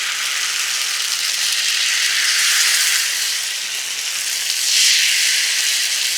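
Thin barnyard-millet (vari) dosa batter poured along the edge of a hot tava, giving a loud, steady broadband sizzle that fills the whole stretch and swells gently twice, with no talking.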